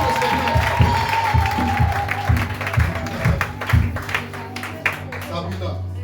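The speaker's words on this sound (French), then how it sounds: "Est-ce qu'on peut acclamer pour la nouvelle Amisha?" A church congregation claps and cheers in a short, uneven burst of applause beneath a preacher's continuing voice, with a low musical drone underneath.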